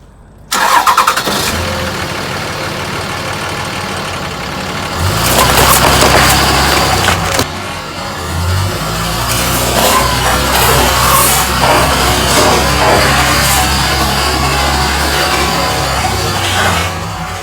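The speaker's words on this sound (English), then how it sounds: "let's see how well this Cummins pickup did with crushing these Mountain Dews in the Truck versus Mountain Dew challenge" A Cummins diesel pickup truck rolls over a row of Mountain Dew cans, its loud engine rumbling steadily with a surge near the start and sharp crunching and popping layered over the drone throughout.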